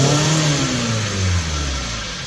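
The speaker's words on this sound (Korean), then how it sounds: "여기서 엑셀 페달을 밟습니다." A 1993 Hyundai Sonata DOHC 16-valve engine with intake air temperature sensor and EGR fault codes, loud and close, rising from idle into a rev whose pitch climbs and then falls back.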